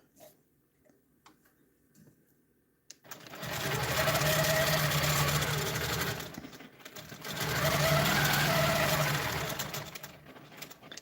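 A sewing machine stitches overlapping stitches on a quilt, running loud and steady in two long bursts with a short pause between, after a few seconds of near silence.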